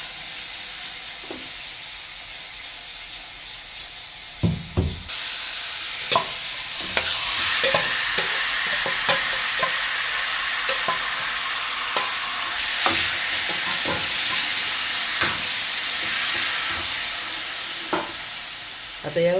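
Overnight-marinated chicken frying in a kadhai on a gas stove, a loud steady sizzle with repeated clacks of stirring against the pan, close up and without speech.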